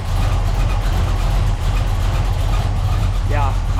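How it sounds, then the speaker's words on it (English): A 1979 El Camino engine idles loud and close, with a steady low rumble and a wobbling power steering pulley; a brief whirring chirp rises near the end. "As you can see, my power steering pulley is shaking and shimmying."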